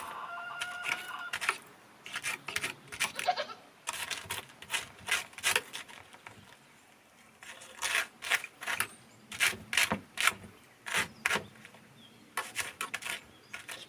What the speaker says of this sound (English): we're going to scrape all the salt off of these hides with a dull knife